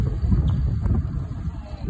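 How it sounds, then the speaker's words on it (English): Wind buffets the microphone outdoors on a tennis court, giving a steady low roar and rumble across the whole moment with no talk over it. "It's windy. Maybe you can hear the wind."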